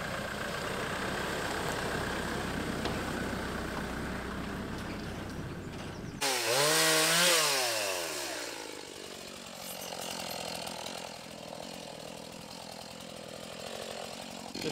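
A chainsaw idles close by, then revs hard and cuts as a farm gateway is widened, its pitch rising and falling with the load before it drops back toward a lower drone.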